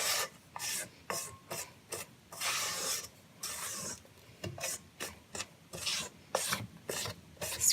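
Spatula scraping the sides of a mixing bowl of springerle cookie dough, a run of repeated short rasping strokes in an irregular rhythm, close and fairly loud, with no talk.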